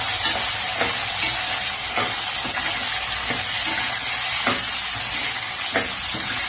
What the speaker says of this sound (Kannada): ಬಟರ್ ಹಾಕೊಂಡು ಫ್ರೈ ಮಾಡ್ಕೊತೀನಿ.